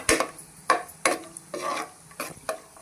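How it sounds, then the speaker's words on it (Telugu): Raisins frying in ghee for rava laddu, a light sizzle under sharp metal spoon taps and scrapes against the pan, a handful of distinct strokes, close and moderately quiet. "ఇందులోనే కిస్మిస్ కూడా వేసేసుకొని ఫ్రై చేసుకుందాం."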